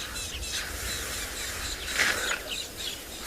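A tawny-flanked prinia calls faintly on a sunset safari, with a short burst of thin, high chirps rising briefly above steady outdoor noise.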